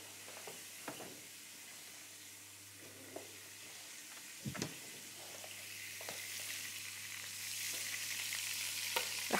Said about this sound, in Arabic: رح أنزل اللحم المفروم بالطنجرة.